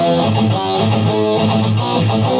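Heavy distorted guitar chugging through a riff, a dense, loud, steady rhythmic pattern with no voice over it.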